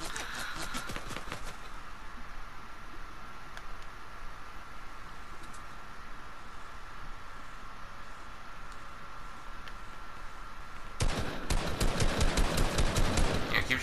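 Bursts of rapid gunfire in Fortnite, loud volleys at the start and again near the end, with a quieter stretch of hiss and faint distant shots between.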